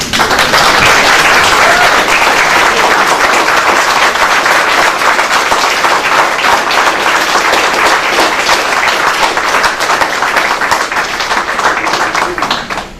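A city council meeting audience applauding a man for his service, sustained and dense hand clapping from a roomful of people that carries on loudly for about twelve seconds before tapering off.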